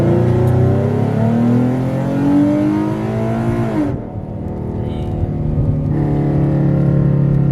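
A modified 3.7L V6 Ford Mustang accelerates at full throttle in second gear, its engine roaring loud and close with rising pitch, then briefly dropping at a shift before pulling hard again.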